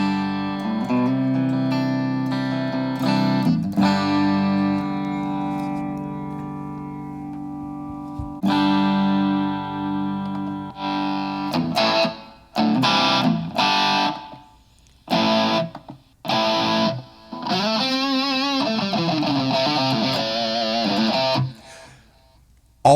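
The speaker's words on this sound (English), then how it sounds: "All of the distortion and effects are on the guitar." An XMARI smart guitar plays through its onboard distortion effect: sustained, thick overdriven chords ring out at first, then give way to choppy, stop-start bursts of distorted notes and short riffs with brief silences between them.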